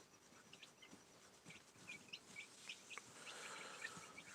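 Freshly bathed chickens drying out and scratching about at bedtime, giving soft, scattered clucks and short chirps that stay quiet and close over a faint background hiss, with no one talking.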